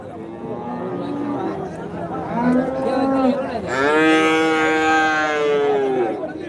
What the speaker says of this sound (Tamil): அங்கே பாருங்கள் குட்டிங்க எல்லா குட்டிங்க ஹெச்எப் குட்டிங்க ஜெர்சி குட்டிங்க எல்லா குட்டியும் இருக்குது